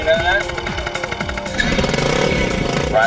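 A superbike engine runs with a steady rough drone and low pulses that grow louder partway through, with someone talking over it.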